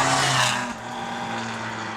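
A Lexus V8 swapped into a 1975 Toyota Corolla, fitted with bundle-of-snakes 180-degree crossover headers that mimic a flat-plane-crank sound. A loud, close rev or pass is heard, with steady tonal exhaust lines that ease off partway through.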